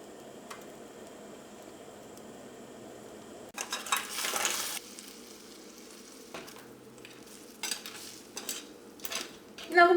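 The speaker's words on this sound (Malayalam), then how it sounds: "ഇനി നമുക്ക് ഞണ്ട് ചേർക്കാം." Crab pieces going into a pan of ground coconut curry (njandu varutharacha curry) and being stirred in, heard as a faint simmer, then a sudden scrape and clatter followed by intermittent stirring scrapes and soft sizzling.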